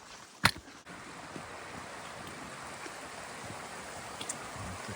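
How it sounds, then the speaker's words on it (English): A creek flows out of Vista Lake on a mountain hike in Banff National Park, making a steady, moderate rushing wash. A sharp knock comes near the start, with some wind buffeting the microphone. "The creek flowing out of Vista Lake."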